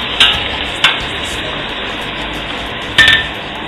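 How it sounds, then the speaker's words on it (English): Squid fries in olive oil in a pan for seafood paella, a loud continuous sizzle up close, broken by three sharp metallic clinks of a utensil against the pan. "So first I'm going to fry up the squid"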